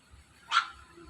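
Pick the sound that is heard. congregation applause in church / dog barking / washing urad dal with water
dog barking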